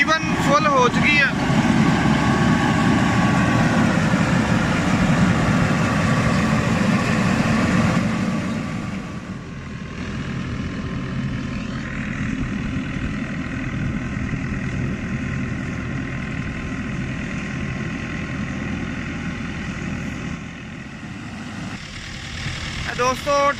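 A New Holland Dabung 85 tractor engine drives a straw chopper machine filling a trolley with chopped straw, a steady loud mechanical roar that drops to a lower, even drone partway through, with no talk over it.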